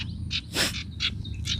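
Sirtu bird, a small songbird, chirping in a series of short, clear high chirps with brief pauses, fairly close, over a low steady background hum.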